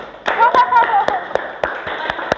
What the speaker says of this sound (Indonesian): Tepuk tangan tepat waktu